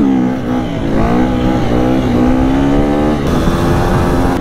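A motorbike engine revs loudly and close by on a dusty dirt-track tour, its pitch climbing and dipping in a sustained drone, with no voices over it.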